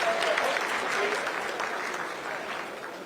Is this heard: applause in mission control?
yes